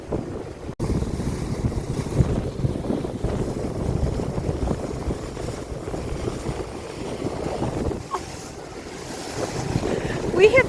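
Strong wind buffets the microphone at the bow of a boat running along the Gulf Intracoastal Waterway, a constant heavy rumble mixed with the wash of water and waves for the whole stretch.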